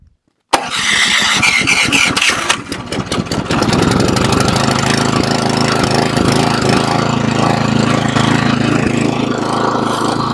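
A Toro Snow Master snowblower engine catches after a brief silence, sputtering unevenly for a couple of seconds before settling into a loud, steady running drone that continues to the end.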